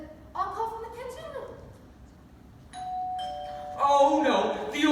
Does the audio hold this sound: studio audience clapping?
no